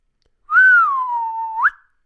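A single sharp human whistle imitates a doorman hailing a cab: a steady tone that dips gently, then flicks upward at the end, alone in silence.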